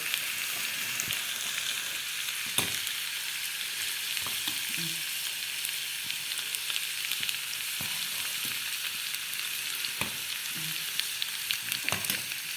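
Garlic frying in hot oil for a molokhia tasha, a constant dense crackling sizzle close up, with occasional light knocks of a utensil against the pan and no talking.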